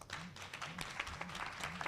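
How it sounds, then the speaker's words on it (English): Audience applause at a senior citizens' spelling bee competition, brief rhythmic clapping for about two seconds with a low repeating hum or murmur underneath. "so another round of applause"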